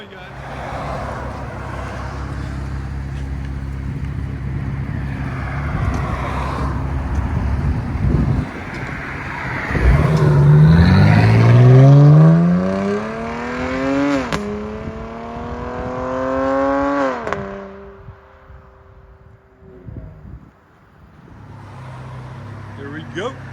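Dodge Challenger V6 with an aftermarket exhaust revs up and settles several times, a loud close engine rising in pitch and dropping back, with wind buffeting and people talking over it.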